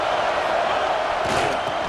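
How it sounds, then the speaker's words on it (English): Stadium crowd in an EA Sports College Football video game, a steady loud roar of many voices that swells slightly near the end, continuous throughout. "This crowd rising up, sensing that its defense needs some help."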